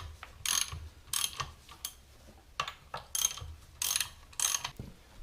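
Bolts being loosened on the clutch of a Farmall Super M tractor with engine knock and a destroyed clutch, heard as a series of close ratcheting wrench bursts in an uneven rhythm with short pauses between them.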